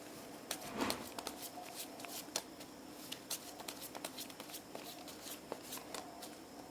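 Tarot cards being shuffled and drawn during a reading, with soft papery riffles and a string of crisp card snaps and flicks spread across the clip, close and fairly quiet, with no talking.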